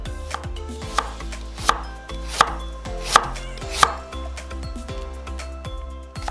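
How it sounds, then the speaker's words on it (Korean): A kitchen knife slices a carrot thinly on a cutting board for spicy braised tofu, giving about nine crisp, evenly spaced chops close to the listener, with no talk. "당근 약간도 얇게 편 썰어서"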